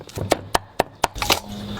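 A knife chops pickled mustard greens (xuelihong) on a board in a rural Northeast Chinese kitchen, with about six sharp, close chopping knocks in a quick, even rhythm.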